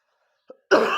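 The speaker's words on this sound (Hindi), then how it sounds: "मुझे खांसी आ रही है" A small throat sound followed by one loud, harsh cough burst, close up, in an otherwise quiet setting.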